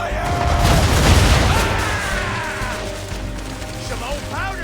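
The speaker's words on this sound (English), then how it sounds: "Now, aim all guns at her bow and do as much damage as possible. Prepare to fire!" Heavy ship cannons firing at an enemy ship during an Assassin's Creed III naval battle, a loud dense rolling barrage of booms and crashes that gradually fades, with music and distant shouts underneath.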